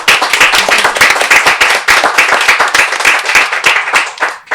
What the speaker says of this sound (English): Can we have a big round of applause for the artists and